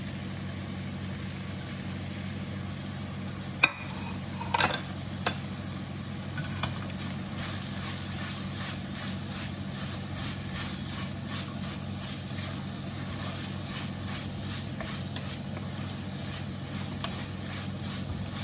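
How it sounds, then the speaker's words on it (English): Broccoli stems sizzle steadily in a hot pan with a constant hiss, broken by a few sharp clicks and brief clatters near the start. "Now I'm going to add the stem of the broccoli"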